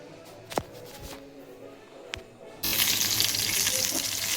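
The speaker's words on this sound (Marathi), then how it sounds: "हे सर्व मी पुन्हा एकदा तेलात फ्राय करून मिक्सरला बारीक करून घेणार आहे." Coconut and green chillies frying in oil, a few sharp knocks and clinks of utensils, then a sudden loud, steady sizzle of hot oil that carries on close up until the end, with no talking.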